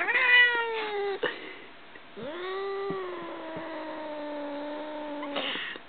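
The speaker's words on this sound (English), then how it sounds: "That meow might be my favorite one." Two long, drawn-out cat meows, the second stretched and wavering, close up and clear against a quiet background.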